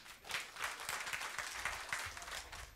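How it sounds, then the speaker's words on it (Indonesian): A church congregation clapping their hands during worship, a fairly quiet but continuous spread of many claps with a loose, uneven rhythm throughout. "Kasih tepuk tangan buat Tuhan kita."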